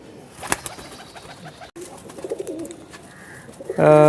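A pigeon, a Teddy-type high-flying bird with purple feet, held in a person's hand, coos softly and shifts about; a few brief flutter-like bursts and faint rustling, ending in a louder, sustained tone.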